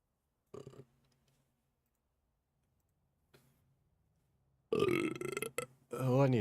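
Short burps come in bursts: a small one early, a faint one in the middle, then a long, loud, croaking belch near the end, close to the microphone.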